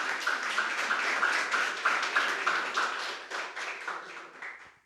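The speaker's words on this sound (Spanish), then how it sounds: "un aplauso para ese" A church congregation applauding, dense rapid clapping that holds steady for a few seconds, then thins out and fades.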